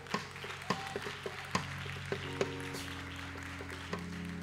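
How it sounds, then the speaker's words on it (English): A church congregation claps along in a steady rhythm, sharp hand claps recurring about twice a second over sustained keyboard or organ tones. "let's clap our hands"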